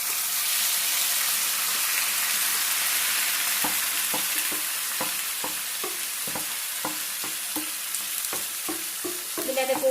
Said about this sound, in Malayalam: അതിലേക്ക് മാരിനേറ്റ് ചെയ്ത് വെച്ചിരിക്കുന്ന ചിക്കൻ ഇട്ട് കൊടുക്കാം